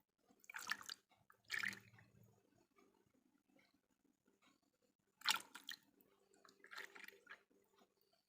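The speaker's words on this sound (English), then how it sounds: "Then into this I'll pour in my caustic solution." Caustic lye solution for homemade laundry bar soap is poured into a container in two short splashing bursts, then a brief trickle, then another pour and a softer liquid spill, quiet and close with pauses between.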